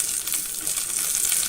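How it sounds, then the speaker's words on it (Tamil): Onions and curry leaves sautéing in a pan for sambar, a steady close sizzle with soft stirring, no voices. "நல்லா வதக்கி விடுங்க. இன்னும் கொஞ்சமாக சவக்க வதங்கட்டும் வெங்காயம்"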